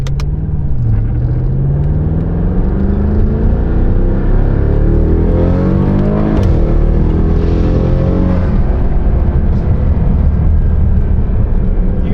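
A tuned car pulls hard at full throttle, its loud engine note climbing steadily through the revs with a shift and renewed climb, a heavy continuous roar close by throughout.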